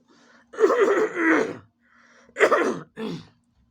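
A person with a mild seasonal cough gives three short, harsh bursts of coughing and throat clearing, close and clear against near silence, with a brief gap between the first and the last two.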